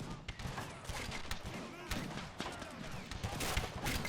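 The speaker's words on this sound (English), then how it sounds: "nice battery fire there from the artillery section outside the fortress walls" An artillery battery outside a British fortress's walls fires in Men of War: Assault Squad, a continuous, fairly faint clatter of overlapping shots and booms in a dense, irregular barrage.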